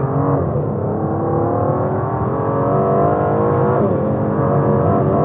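The naturally aspirated V12 engine of an Aston Martin V12 Vantage drones and rises in a smooth, steady rev, heard loud and close from inside the car, with no talking.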